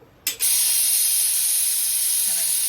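A pressure cooker cooking rice and fresh broad beans lets out its whistle as a sudden, loud, continuous hiss of escaping steam that holds steady at full strength after a short sharp onset.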